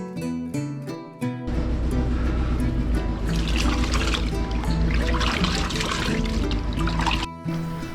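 Aquarium filter wool cotton squeezed and wrung in a bucket of water, a continuous splashing, trickling rush of liquid under steady background music, close and fairly loud.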